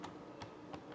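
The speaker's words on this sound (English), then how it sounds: "I am typing the name Divya" Typing on a computer keyboard while entering a name into a database filter, about four soft, evenly spaced key clicks, close and quiet.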